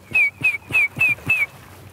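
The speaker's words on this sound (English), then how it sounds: "I can't whistle loud." Five short rising-falling whistles repeat at an even pace, each a clear thin tone, fairly close with a low rumble beneath.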